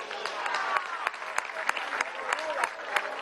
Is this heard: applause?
yes